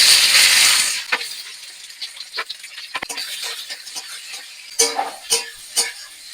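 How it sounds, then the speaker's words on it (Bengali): Whole spices are lightly stirred in a dry wok for a cauliflower roast paste, giving an opening hiss that fades into sparse, irregular scrapes and clicks of a spatula against the pan. "এগুলো আমি একটু কড়াইতে হালকা করে নেড়ে নেবো।"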